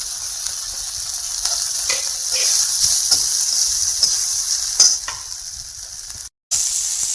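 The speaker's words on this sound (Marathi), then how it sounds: "हे चांगलं मिक्स झालं की त्याच्यात भात टाकायचा।" Leftover cooked rice being stirred into a sizzling turmeric tempering in a pan, a steady frying hiss with scattered scraping clicks of the spoon, close and alone.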